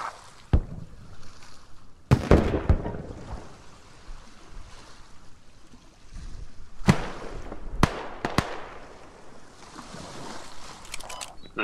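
Enemy gunfire in the video game Squad: a few isolated sharp shots spaced several seconds apart over a low rumbling ambient wash, mid-distance, with no voices.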